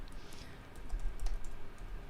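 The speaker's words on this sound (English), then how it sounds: "Hold on, I'm typing." Typing on a computer keyboard, a steady run of quick, light key clicks close by with no voices.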